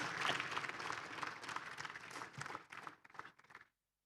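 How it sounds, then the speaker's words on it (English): A seated crowd at a university research centre launch applauds. The full, lively clapping is strongest at first, thins out, and stops abruptly just before the end. "Let us give Prof. Umama Webhaji wasewisile a round of applause."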